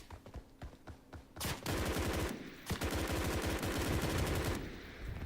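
Gunfire in the BRM5 shooter game as a player shoots at a van: a few scattered shots, then long, loud automatic bursts with a short pause between them, fading at the end.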